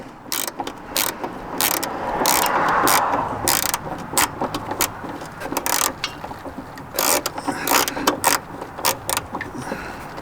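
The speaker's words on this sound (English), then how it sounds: "Turns out for the bolt I'm going to use a 1/2 inch drive because it's pretty tight." A 1/2 inch drive ratchet works a tight gas tank bolt on a 1979–85 carbureted Mustang or Capri, giving repeated close, sharp clicking bursts in uneven spurts over a steady background hum.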